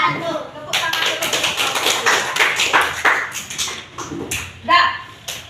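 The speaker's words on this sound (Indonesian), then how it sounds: "Tepuk tangan dulu." Primary school pupils in a fifth-grade maths class clap their hands together, a burst of rapid overlapping claps with voices mixed in, fading then briefly swelling again near the end.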